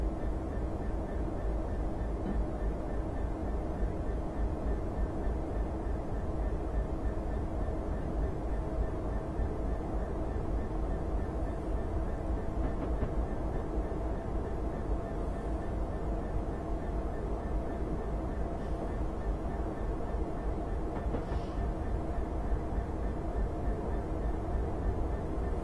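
DRS Class 66 diesel freight locomotive hauling a heavy train slowly downhill into Settle on the Settle–Carlisle line in Train Simulator 2016, a steady low engine rumble and rolling drone held evenly throughout.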